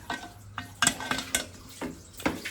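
Roasted peanuts stirred in a pan on the stove with a spoon, giving a series of sharp scraping and rattling strokes over a soft sizzle, close and fairly loud with no talking.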